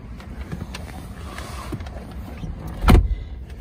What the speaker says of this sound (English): Driver's seat is power adjustable.